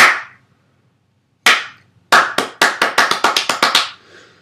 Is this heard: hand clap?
yes